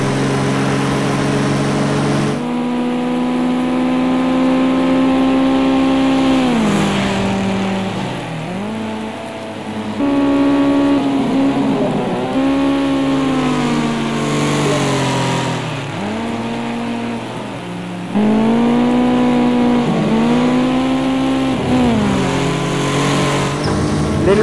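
A Porsche 959 engine revs hard on the Nordschleife in Project CARS 2, loud and close, climbing through the gears with repeated rising whines broken by brief shift dips, running alone without talk.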